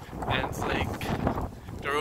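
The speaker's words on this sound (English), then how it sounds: "it's pretty windy" Strong wind buffeting an outdoor microphone on a street near a building under construction in Hamilton, roaring steadily throughout with gusts, while a person talks over it.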